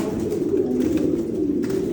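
Pigeons coo in a loft, a low, throaty rolling call that sounds close and continues steadily with slight swells in volume.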